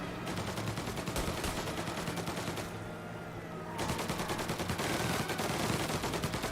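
Rapid bursts of video game gunfire crackle in dense, repeated volleys from an enemy, with a short lull in the middle before the shooting resumes just as loud.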